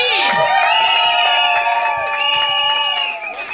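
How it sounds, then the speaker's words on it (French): Wedding guests at a customary and civil marriage burst into loud cheering and applause, with shrill sustained whoops and ululating voices over rapid clapping, close and energetic throughout. "Applaudissez, oui!"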